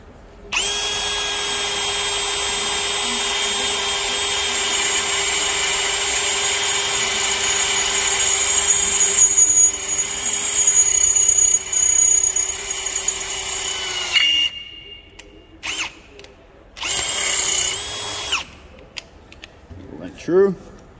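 A Ryobi One+ HP brushless drill bores through quarter-inch steel plate, a loud steady whine for about fourteen seconds, then stopping, followed by shorter bursts of drilling and handling noise.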